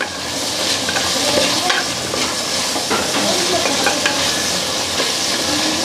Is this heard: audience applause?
no